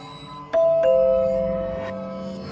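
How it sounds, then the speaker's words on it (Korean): An apartment doorbell rings a two-tone ding-dong. Both chimes strike clearly and then ring out slowly over a quiet background. "나는 용기를 내어 초인종을 눌렀다."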